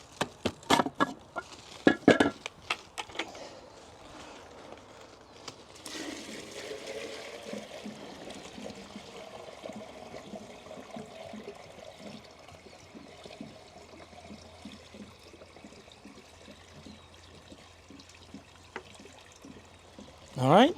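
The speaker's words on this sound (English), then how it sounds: "we need to fill up this pump with a bucket full of water" A bucket of water is poured into a pool pump, a steady trickling and splashing stream running for many seconds after some sharp knocks and handling clatter at the start, close and moderately quiet.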